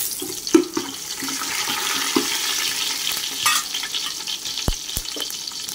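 Whole spices crackling in hot oil in a cooking pot, a steady close sizzle with scattered pops, a few utensil taps and two sharp knocks near the end, no talking.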